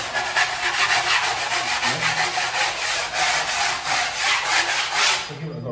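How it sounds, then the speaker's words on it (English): Steady rasping scrape of a hand tool tipped up and drawn across a plaster wall to level it, a continuous gritty rubbing with rhythmic strokes, close and fairly loud with no talk. "So, to scrape it more level, you tip it, just tip it up like this."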